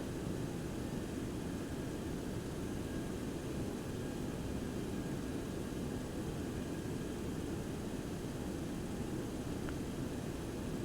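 A Boeing 727-200 airliner in a flight simulator produces a constant broadband jet roar inside the cockpit, steady and unbroken, with no voices.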